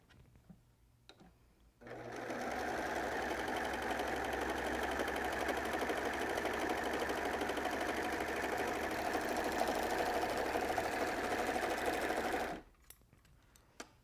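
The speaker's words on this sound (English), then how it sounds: "I'm going to use this test piece and I'm going to run it through the serger." A serger sewing machine stitches a fabric test piece in one continuous, steady, fast mechanical whir lasting about ten seconds, starting and stopping abruptly, close and fairly loud with no talk.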